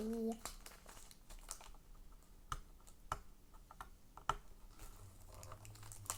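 Paper is crinkled, torn and crumpled while paper surprises are unwrapped, giving scattered soft rustles and crisp tearing snaps close by, with a light voice faintly present in the background.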